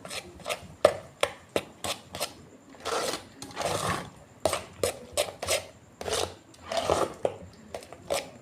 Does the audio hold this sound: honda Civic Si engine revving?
no